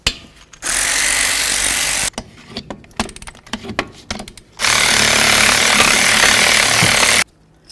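A power tool, likely an impact wrench, runs in two long loud bursts on the brake caliper slider bolts of a 2006-2012 Ford Fusion, with clanks and rattles of handling between them.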